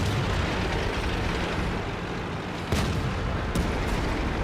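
Tank cannon fire in World of Tanks, a dense rumbling battle bed with a couple of sharp reports punching through near the end.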